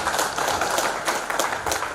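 An audience claps together in a steady, dense burst of applause that continues throughout, fairly loud and close, with no talking over it.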